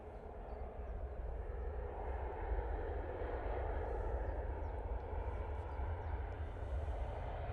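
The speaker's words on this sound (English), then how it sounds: "We do have an arrival, which is this Aer Lingus" Aer Lingus airliner arriving at Manchester Airport, a distant, steady jet rumble that swells slightly and holds, faint and broad with no talk.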